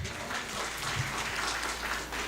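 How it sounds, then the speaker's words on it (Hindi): Audience applause at a Hindi comic poetry gathering, a steady wash of clapping from a crowd heard from a distance, continuous and moderate in level. "एक बार इनके लिए तालियां बजा दीजिए।"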